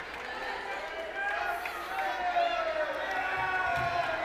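Crowd at a high school volleyball quarterfinal cheering and shouting together, a steady roar of voices swelling midway and holding loud and close.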